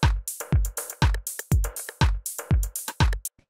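A deep house percussion loop, with a steady booming kick under crisp hi-hats, claps and clicky percussion hits that interlock in a tight, repeating groove, played loud and alone.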